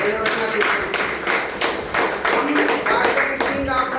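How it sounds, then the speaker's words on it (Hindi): Audience clapping at a talk on DXN and Ganoderma lucidum, the claps coming in bursts and uneven rhythmic waves, moderately loud and close, with some voice mixed in. "इसके लिए जोरदार तालियां होनी चाहिए"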